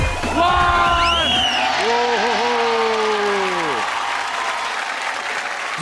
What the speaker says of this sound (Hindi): जोरदार ताली पारिक फैमिली के लिए